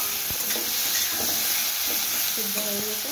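Tomatoes frying in a pan over a low gas flame, a steady close sizzle with a broad hiss throughout and a few soft stirring scrapes.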